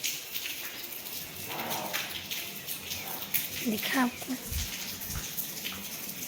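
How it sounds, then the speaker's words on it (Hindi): Rainwater dripping and splashing on a rainy morning, a steady wet patter running throughout with a person talking over it. "ऐसे पानी टपक रहा है।"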